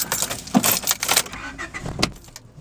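Keys jangle in the ignition of a 1992 Honda Accord before its engine cranks and catches, a brief close rattle and a quick starting burst, then settling quieter inside the car.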